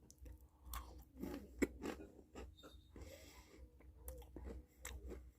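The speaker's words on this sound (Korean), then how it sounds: "자, 이번에는 이렇게 딸기 맛 한번 먹어보도록 하겠습니다." Strawberry-flavoured mini Pepero sticks being eaten up close: quiet, irregular crunching and chewing with soft bites and mouth sounds, and no talking.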